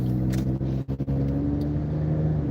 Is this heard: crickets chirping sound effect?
no